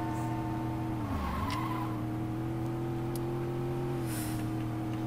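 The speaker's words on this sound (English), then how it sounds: "The drift is not too bad, actually." In the Saints Row 2 video game, a car drifts with a sharp tire skid that squeals and sweeps in pitch early on, then settles into a steady engine drone and road hum, with no speech.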